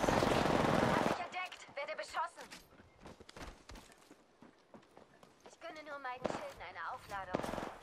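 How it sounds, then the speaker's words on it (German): Apex Legends gameplay with a loud burst of rapid gunfire at the start, followed by scattered shots and in-game sounds while German-speaking players talk. "Werde beschossen."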